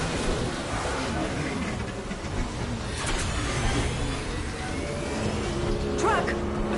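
A taxi car drives steadily through the Mass Effect 2 video game, a continuous engine and road drone with brief whooshes and a short electronic chirp near the end.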